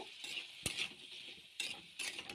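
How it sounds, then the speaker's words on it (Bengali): Cut potatoes and squash with salt, turmeric, cumin, chilli powder and ginger-green chilli paste are stirred in a pan, with soft scraping and a few sharp utensil clicks against the metal, faint and close. "নাড়িয়ে দিয়ে দিলাম"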